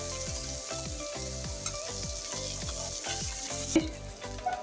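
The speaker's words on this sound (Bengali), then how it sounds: "মাছগুলো আমি উল্টেই দিয়েছি, হোক ওই সাইড ভাজা" Poa fish frying in oil in a pan, a steady close sizzle with a soft rhythmic pulsing crackle throughout, no talking.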